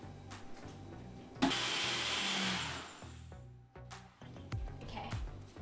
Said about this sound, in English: turn my blender on and mix it all together.